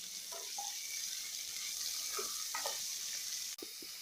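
Chopped onions fry in a pan for mushroom biryani, a steady hiss of sizzling oil running throughout with a few faint clinks and stirring sounds, and a brief sharp tap near the end.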